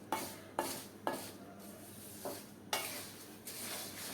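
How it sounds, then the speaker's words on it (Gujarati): A spoon scrapes and stirs spiced sev mamra (puffed rice and gram-flour noodles) as it roasts in a pan over a gas flame. Several distinct scrape strokes over a soft background hiss, close and clear, no talking. "અને આ રીતે આપણે ચલાવતા જઈએ અને રોસ્ટ કરતા જઈએ."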